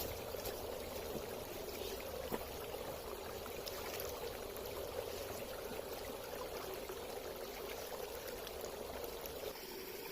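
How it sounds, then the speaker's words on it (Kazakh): Cold spring water flows in the Karkaraly mountains of Kazakhstan, a soft, steady trickling stream that stays faint and even throughout with no talking. "Мынау ағып жатқан су салқын."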